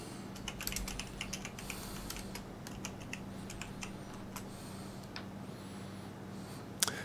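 Keystrokes on a computer keyboard as a terminal command is typed for an X2Go client install, a steady run of light clicks close by over a low hum, with no talking.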